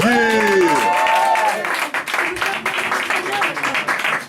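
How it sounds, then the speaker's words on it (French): Audience at a slam poetry session bursts into applause after a voice trails off, the clapping dense and lively, continuing steadily with some scattered crowd noise. "veuillez applaudir le poète, s'il vous plaît."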